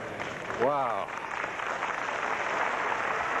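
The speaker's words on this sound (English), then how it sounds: "Very appreciative crowd here at the Cook Convention Center" Broad, steady applause from a convention-center crowd after a Masters bowling championship win, filling the whole clip at moderate distance, with one voice calling out briefly near the start.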